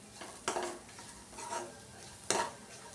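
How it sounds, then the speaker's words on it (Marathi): Ground raw masala sautés softly in oil for an okra dish, with a few sharp spoon scrapes and stirs against the pan over a faint, continuous sizzle. "मसाला हा आपल्याला व्यवस्थित परतून घ्यायचा आहे कारण आपण हा पूर्ण मसाला कच्चा वाटून घेतलेला आहे"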